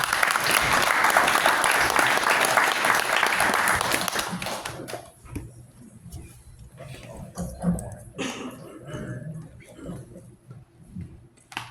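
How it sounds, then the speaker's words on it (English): An audience claps loudly for several seconds, then the applause fades into scattered claps and low murmuring voices. "Well, let's give Mark a round of applause."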